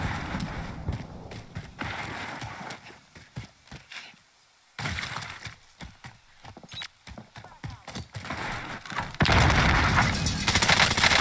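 Rapid bursts of automatic gunfire from the video game Warzone, several close volleys rattling across the clip with brief pauses between, loud and forward with no voices over them.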